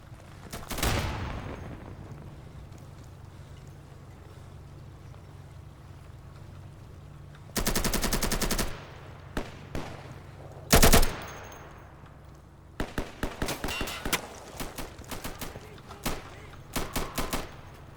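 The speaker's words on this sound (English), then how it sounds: "Here comes a grenade!" New World game combat with a grenade blast and bursts of automatic gunfire: a loud boom early on, then sharp rapid volleys in separated clusters, some long and dense, others short and choppy.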